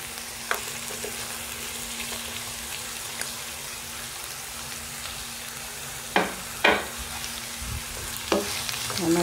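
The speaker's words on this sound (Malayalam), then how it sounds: "ചിക്കൻ വെന്തുകൊണ്ടിരിക്കുമ്പോൾ തന്നെ നമുക്കിതിലേക്ക് ക്യാരറ്റ് ചേർത്ത് കൊടുക്കാം." Chicken pieces with added carrot frying in a pan for chicken spaghetti, under a steady sizzle and a low hum, with occasional spoon scrapes and clinks growing more frequent toward the end.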